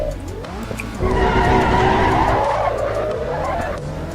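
A race car without traction control squeals its tires as it spins out in Assetto Corsa EVO, with a loud, sustained skid over the revving engine that fades slightly toward the end.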